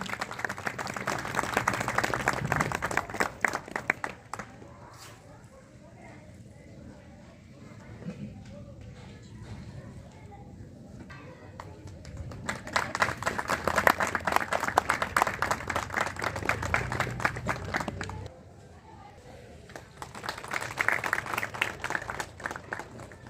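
Audience applause at a closing ceremony of an innovation festival in Khambhalia, heard as sustained bursts of clapping that swell and fade in several waves over the clip, with talk at times.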